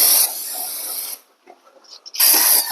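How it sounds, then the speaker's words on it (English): Close, loud hissing bursts of a spray nozzle washing down a Honda GL1200 Gold Wing motorcycle in a home garage, two long sprays separated by a short quiet pause. "I'm going to spray it down"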